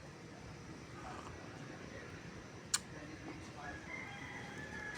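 Chickens cluck faintly and a rooster crows at a distance in an outdoor provincial yard on a morning, the thin calls rising over a steady background hiss, with one sharp click partway through.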